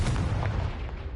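A Confringo fire spell explodes in Hogwarts Legacy as a loud, booming burst with a heavy low rumble that rolls and fades over about a second.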